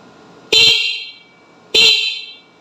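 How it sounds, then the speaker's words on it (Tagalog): Two short, bright motorcycle horn honks about a second apart, each sharp at the start and fading, close by. "tutunog yung ating busina"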